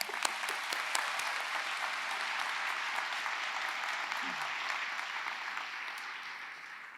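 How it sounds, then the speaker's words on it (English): Graduates at a university commencement applaud themselves, a large sustained roar of clapping filling the hall, slowly easing in volume over several seconds, with scattered crisp claps near the start. "Please give yourselves a round of applause."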